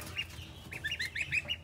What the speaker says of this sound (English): The goose is getting ran over.